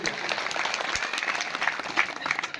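An audience at a kirtan-style religious gathering claps for the organisers, dense steady applause lasting a few seconds, fairly close and loud.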